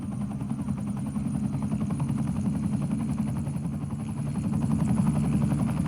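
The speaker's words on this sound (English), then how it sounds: "It's a helicopter coming in." A helicopter flies in on a rescue, its rotor thumping in a steady, continuous drone that stays fairly loud and close throughout, with no voices.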